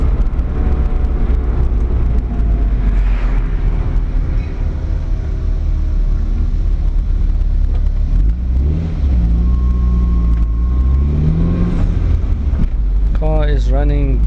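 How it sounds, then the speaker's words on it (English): Honda CRX running Dictator engine management accelerates hard, a loud, rising engine drone heard from inside the cabin with wind rush, while someone talks over it. "this thing starts accelerating, you get pushed back into your seat"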